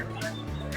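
Guinea fowl-like birds at a pet and farm sale in Myshall, Ireland, give a short, close burst of harsh honking calls with no voices over them.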